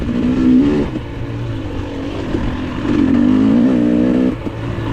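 A dirt bike, likely a two-stroke off-road machine, races past during a hare scramble trail race, its engine droning and revving up and down close by, loud and continuous with no talk.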